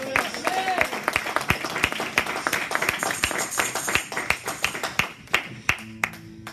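A church congregation claps loudly and rhythmically, sharp close hand claps repeating in a quick beat while a voice talks and background music sounds underneath.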